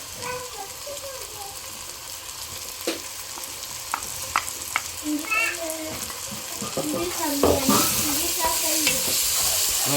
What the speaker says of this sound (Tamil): அதுக்கான இஞ்சி பூண்டு பேஸ்ட்டை வந்து நாங்கள் நல்லா வதக்குவோம்.